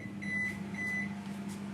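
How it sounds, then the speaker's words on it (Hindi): Microwave oven sounding two clear high beeps after preheating, over its steady low running hum, close by in a home kitchen with no talk. "हमारा जो माइक्रोवेव है वो प्रीहीट हो चुका है।"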